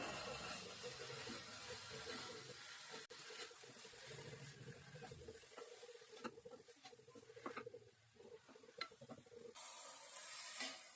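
Peanut greens sauté in oil in a pan for a North Karnataka-style palya, giving a soft continuous patter and sizzle broken by occasional scraping stirs, fairly quiet and close with no talk.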